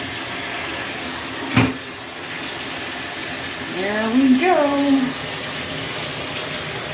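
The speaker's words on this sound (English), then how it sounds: "So let's turn on some very warm water and let's see if it works." Very warm water pours from a tap into a bathtub, a loud steady gushing rush throughout, with a brief knock and a person speaking over it partway through.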